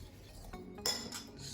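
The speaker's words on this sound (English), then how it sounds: "Mix her up a bit." Marinade ingredients with black pepper are mixed in a bowl, giving a quiet clink of utensil against the dish and some brief stirring scrapes.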